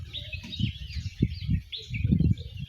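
A small sparrow chirps in quick, high repeated bursts, with low thumping and rustling noise underneath.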